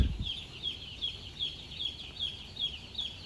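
A flock of chickens on a chicken farm clucks steadily in a continuous chatter, with a low rumble briefly at the start and no voices.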